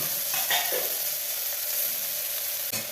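A handful of peas and spices fry in a pan for bisibelebath, giving a loud, continuous close sizzle with a couple of soft stirring clinks.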